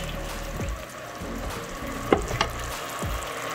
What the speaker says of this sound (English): We're frying it up.